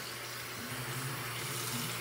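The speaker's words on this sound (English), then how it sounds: "I'm gonna close the water now." Water runs from a tap at a school bath, a steady, close, rushing flow with no talking.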